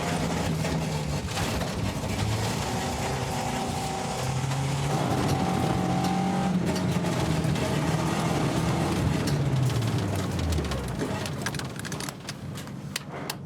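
A rally car engine roars continuously, revving up and down as it drives past nearby at a rally event, with rising and falling pitch through the gears.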